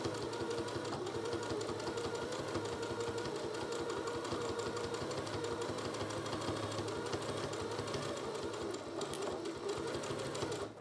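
A sewing machine runs continuously, its rapid needle chatter steady and close as it stitches a fabric face mask with a half-centimetre seam, alone with no talking.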